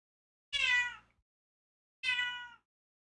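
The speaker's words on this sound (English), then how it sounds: "Oh, it's my cat." Two clear, close meows from a house cat, each about half a second long and separated by silence, with no talking over them.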